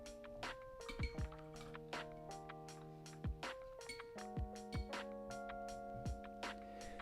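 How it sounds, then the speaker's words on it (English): A watercolor paintbrush is rinsed in a water jar, tapping and clinking against the glass in a string of bright, ringing knocks with short pauses between, close by and alone. "I rinse my brush."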